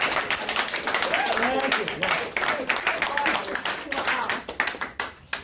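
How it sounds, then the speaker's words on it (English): A small meeting crowd claps for a presenter after a cryptocurrency talk. The applause is under overlapping voices and thins into a few scattered, sharper claps at the end. "let's give a round of applause to Robert"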